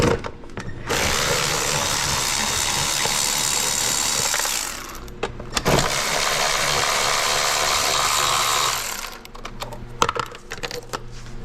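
Ratchet wrench removing 10 mm bolts on a 2010–2015 Toyota Prius during water pump replacement, giving sustained rapid clicking that runs loud and close in two long bursts separated by a short pause.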